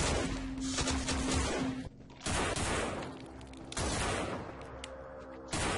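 Rapid gunfire in the zombie shooter No More Room In Hell: loud, dense volleys of shots in three separate bursts, split by brief lulls.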